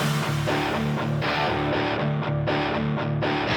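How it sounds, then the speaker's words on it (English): Dense Afrobeats beat with a distorted siren-like texture over heavy bass and drums, loud and continuous for a few seconds, with no voices. "Then we got some extra textures with the siren effect"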